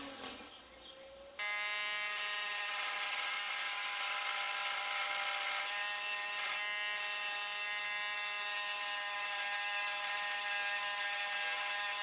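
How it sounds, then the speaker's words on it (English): A grinder spins up with a jump in pitch and then runs with a steady, close, high whine for several seconds while reel mower parts are being sharpened. "Back to the grinder."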